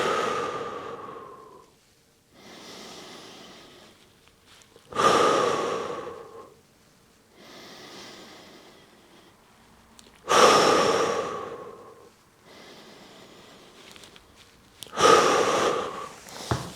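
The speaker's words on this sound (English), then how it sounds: "what I want you to do with this exercise is 3 sets of 5 to 10 deep breaths" Slow deep breaths drawn in and pushed out through the nose during an exercise for elbow pain, about six long cycles of inhale and exhale, close and clear, with the louder exhales recurring every five seconds or so.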